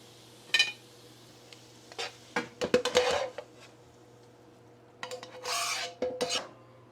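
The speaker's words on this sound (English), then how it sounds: "All I'm going to do now is toss it in the sauce." Utensils scrape and rasp in a pan as zucchini spaghetti is tossed in peanut sauce, with bursts of stirring and clinks broken by short pauses over a faint steady hum.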